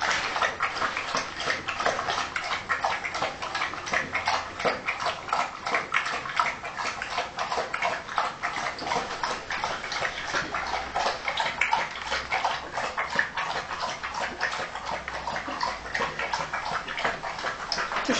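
A dog laps water in a quick, steady rhythm of wet slurping strokes that continues without pause, close and fairly quiet.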